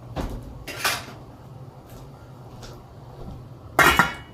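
A lid goes onto a cooking pot of gnocchi sauce with a few light metallic clinks and one louder clatter near the end, spaced by quiet kitchen background.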